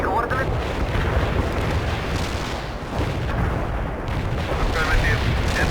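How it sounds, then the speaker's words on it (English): An artillery barrage in the video game World in Conflict rumbles as a dense, continuous wash of heavy explosions, loud and unbroken throughout with no distinct gaps between blasts. "Artillery strike on the way."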